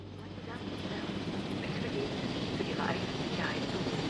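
Helicopter in the dinosaur park management game Jurassic World Evolution, a steady rotor and engine drone building up and holding loud and close, with someone talking over it.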